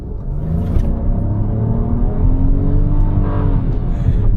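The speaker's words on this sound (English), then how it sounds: "It revs pretty high" A turbocharged Chevrolet Rogue engine in sport mode revs hard and climbs steadily in pitch, loud and close, a continuous rising drone with no talking.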